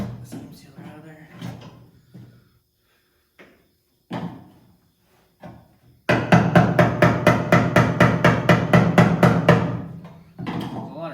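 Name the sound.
scraping seam sealer out of a truck body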